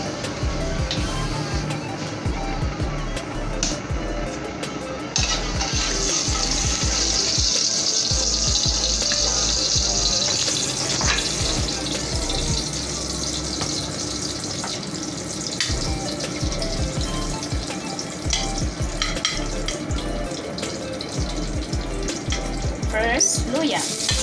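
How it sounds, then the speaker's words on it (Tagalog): A small amount of cooking oil goes into a pan and sizzles with a steady, fairly loud frying hiss, mixed with stirring scrapes and some running-water noise throughout. "Saka tayo ngayon maglalagay ng mantikang konti"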